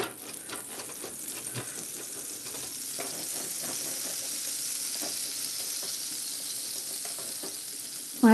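Butter sizzles on a hot nonstick pan with a steady, close crackling hiss, punctuated by faint light clicks, and a louder knock at the very end.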